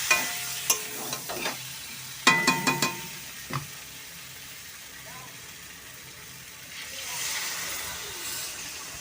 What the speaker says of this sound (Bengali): ইঁচড় আর মশলা কষা হয়ে গেছে, এবার দিয়ে দেবো জল।